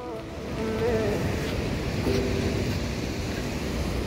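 Ocean waves break at Praia de Iracema beach in Fortaleza, a steady close roar of surf and wind with no clear gaps, and faint tonal traffic or engine hum underneath.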